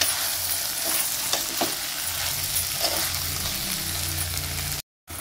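Vegetables, cashews and paneer being stirred in a frying pan, with a steady bright sizzle under repeated scraping strokes and a few light clinks of the spoon, close and fairly loud, with no talking.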